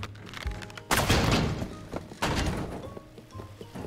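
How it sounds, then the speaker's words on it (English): Homemade slingshot fired into a second slingshot in a double-launch setup, giving two heavy thudding impacts about a second apart, loud and close, each with a broadband crack and a short rattling tail. "So what if we fire into another slingshot?"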